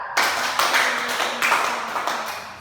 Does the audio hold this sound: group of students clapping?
yes